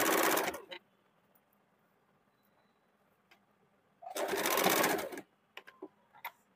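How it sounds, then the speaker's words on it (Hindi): A sewing machine stitches lace onto a kurti made from a saree, running in two short, fast bursts separated by a quiet pause with faint handling clicks. "उसमें भी लेस लगा लेंगे और उसमें भी डबल सिलाई चला देंगे"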